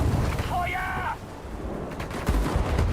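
Gunfire and explosions from the war strategy video game Sudden Strike 5 rumble loudly and steadily, with a sharp burst near the end, as a German voice speaks over the noise.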